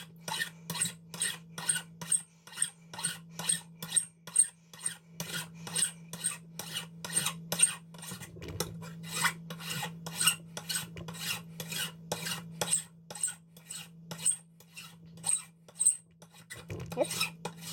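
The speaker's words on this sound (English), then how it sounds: "Let's go 40 swipes on the file." A hand file rasps back and forth over the threads of a custom lightsaber hilt in a steady run of quick, even strokes, close and crisp over a low background hum, with a few faint knocks.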